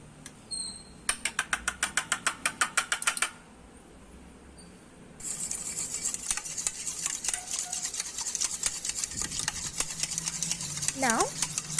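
A spoon stirs black salt and crushed chili flakes into fruit raita in a bowl, first as a quick run of rhythmic scraping clicks, then after a pause as continuous brisk mixing with wet, scratchy strokes.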